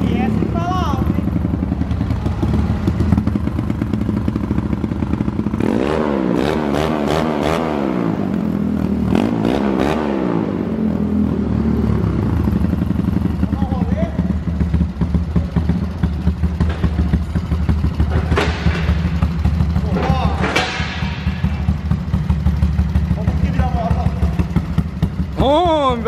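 A Honda CG 150 motorcycle bored to 221cc and running on alcohol revs hard, its engine rising and falling in several loud throttle blips over a steady idle, close up, with people talking over it.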